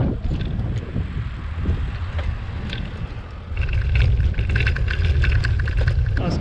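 Wind roars across a microphone while cycling slightly uphill into a headwind, a loud continuous buffeting rumble that swells and grows gustier halfway through, with no speech.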